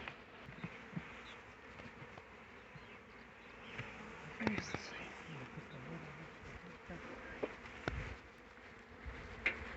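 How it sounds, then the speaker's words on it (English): Honeybees buzzing around an open hive after a swarm, a continuous faint hum with individual bees passing close, while people talk occasionally. "Looks like we got pretty good bees in here."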